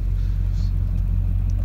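A 2003 Chevrolet Duramax LB7 diesel in a pickup with a ZF6 manual transmission and 168,000 miles runs with a steady, deep low rumble, even and unchanging, with no talking over it.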